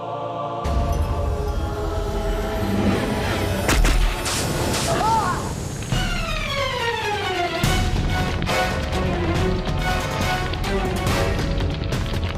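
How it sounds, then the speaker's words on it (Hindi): Gunfire erupts amid a loud, chaotic mix of booms, crashes and music-like tones in a comedy drama scene, with sharp blasts spread throughout and voices briefly heard. "चलाओ गोली चलाओ"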